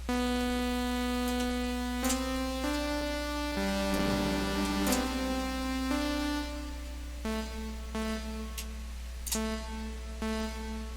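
Synthesizer notes from the U-he Hive soft synth played through its built-in reverb, each tone ringing out into a washy tail that overlaps the next, in a short melodic phrase.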